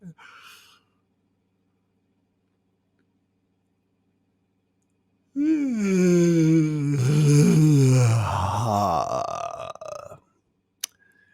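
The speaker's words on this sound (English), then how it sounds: "I induced that yawn" A person gives one long, loud yawn up close, drawn out and wavering in pitch, then trails off into silence, followed by a brief click.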